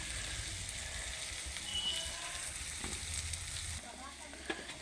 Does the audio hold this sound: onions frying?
yes